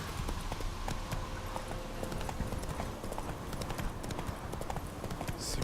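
Horse hooves gallop in a fast, steady clip-clop rhythm in The Witcher 3 video game, loud and continuous over a dense background of game ambience.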